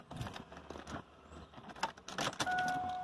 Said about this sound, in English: So I'll put this key in